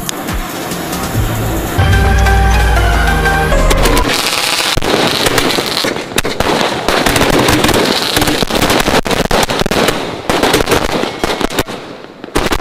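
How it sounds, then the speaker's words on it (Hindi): A KGF sky shot firework is lit and goes off in a rapid, loud barrage of cracking bursts and booms that continues for over ten seconds, close to the microphone. "आज हम फोड़ने वाले हैं KGF स्काई शॉट"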